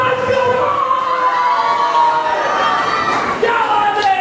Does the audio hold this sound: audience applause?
yes